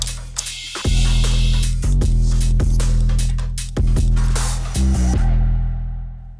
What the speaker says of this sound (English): I'll bust out the air compressor and let's get some air in the rear tires